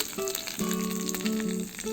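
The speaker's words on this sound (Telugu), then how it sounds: "ఇక్కడ నేను కరివేపాకు, ఆవాలు వేసి ఆయిల్లో తాలింపు రెడీగా పెట్టుకున్నాను." Curry leaves and mustard seeds sizzle and crackle in hot oil for a tempering, a steady close frying hiss with bright popping throughout.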